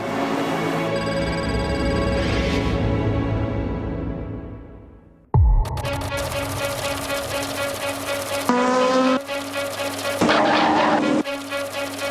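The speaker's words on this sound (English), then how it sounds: "The 3 Audis are leading the pack in all first 3 positions, followed very, very closely by the 2 Toyotas" Audi and Toyota race cars at the 24 Hours of Le Mans: a loud, close, harmonic engine roar with shifting pitch, broken by a sharp booming burst midway and followed by more revving passes.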